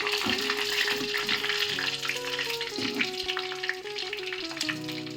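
Green chillies sizzle in hot oil with onions for a mango pulissery, a steady crackling fry that runs throughout beside a tonal melodic layer.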